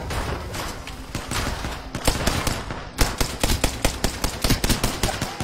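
In Apex Legends, the Rampage gun fires in long bursts of rapid, dense gunshots, loud and continuous with overlapping impacts and other weapon noise.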